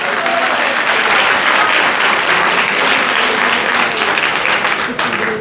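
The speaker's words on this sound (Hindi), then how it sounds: "तालियां बजाइए इनके लिए।" An audience bursts into sustained, dense clapping that fills the hall at a steady level for several seconds, with a voice faintly underneath.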